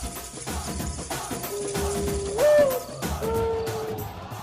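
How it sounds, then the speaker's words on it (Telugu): An owl hoots twice at night, a clear rising call followed after a short pause by a second, softer hoot, set against a dense bed of background noise. "అది గుడ్లగూబ, భయపడకు."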